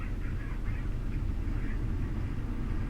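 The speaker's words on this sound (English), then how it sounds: "Chicken." Chicken clucking in the video game Resident Evil 4, a steady run of squawking bird calls over a dense game soundscape, sounding moderately close with no pauses.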